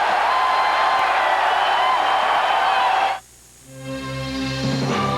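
A packed basketball arena crowd at the 1989 Atlantic 10 Tournament final between Rutgers and Penn State roars steadily during a timeout for about three seconds, then cuts off abruptly into quieter tones.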